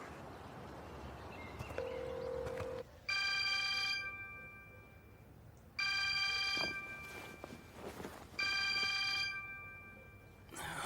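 An outgoing phone call rings back with three long, steady electronic ringing tones separated by pauses, heard clearly over faint room noise in a dubbed TV drama scene.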